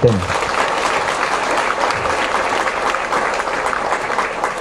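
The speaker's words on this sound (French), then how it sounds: "On peut applaudir pour les 80." An audience of people aged eighty or more applauds, a dense, steady wash of clapping that fills the space for several seconds, with a few voices mixed under it.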